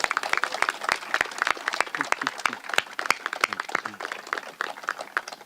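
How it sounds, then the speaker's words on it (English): An outdoor crowd at a groundbreaking for a new skate park claps in sharp, distinct, irregular hand claps, fairly close, continuing steadily for several seconds. "Let's all applaud everyone who has been part of this."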